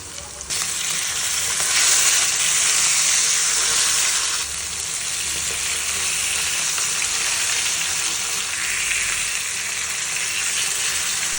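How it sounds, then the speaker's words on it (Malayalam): Fish deep-frying in fresh coconut oil gives a loud, steady, close-up sizzle that runs without a break. The hiss swells brighter for a couple of seconds near the start, then settles into a constant fry. "പിന്നെ നല്ല ഫ്രഷ് വെളിച്ചെണ്ണ അതിലേക്ക് മീനിട്ട് ഒന്ന് നല്ല ഡീപ്പ് ഫ്രൈ ചെയ്തെടുക്കുകയാണ്"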